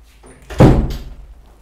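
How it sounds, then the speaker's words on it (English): A door opens with a single heavy thunk and a short rattling swing, preceded by a faint scrape, then it fades into quiet room tone. "we made the door open"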